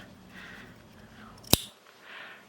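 Scissors clip through the thick seam allowance of jeans being sewn. A single sharp, close snip stands out amid faint handling sounds.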